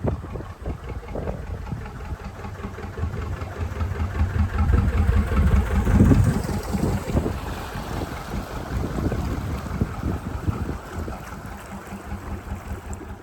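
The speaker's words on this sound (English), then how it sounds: "It's a lovely sounding boat." A boat engine passing along a canal, a steady low rumble that builds toward the middle and then eases off, heard with light wind noise on the microphone.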